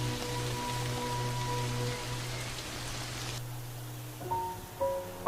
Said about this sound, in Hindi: लेकिन ये बेमौसमी बारिश बंद होने का नाम ही नहीं ले रही